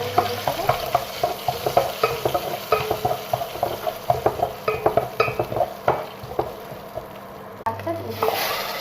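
Dry red chillies and garlic tempering in hot oil crackle and spatter close by, with rhythmic stirring clatter over a steady sizzle that fades toward the end before a short burst returns.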